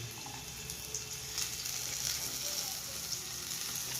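Eggs frying in a pan of oil make a continuous soft sizzle with faint crackles, heard from close by in an outdoor setting with a low background hum.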